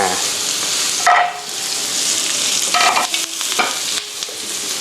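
Continuous sizzling and frying of chicken and vegetables in a hot wok, with scraping and clattering stir strokes breaking through the steady hiss.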